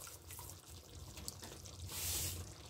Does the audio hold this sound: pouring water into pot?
yes